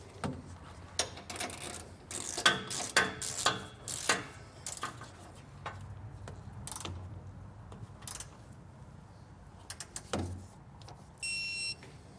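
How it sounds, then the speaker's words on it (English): Frame bracket bolts for Air Lift LoadLifter 5000 air helper springs are torqued under a vehicle, with sharp ratchet clicks in bursts and metallic clanks, then a short electronic beep from the torque wrench near the end. "We'll go ahead and torque these to the specifications that are outlined in the installation manual."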